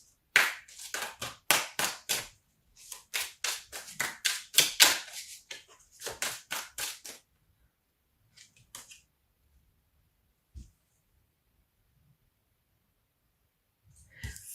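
Tarot cards shuffled hard and fast by hand, a rapid burst of crisp riffling clatters for several seconds, then a few sparse taps and a long near-silence.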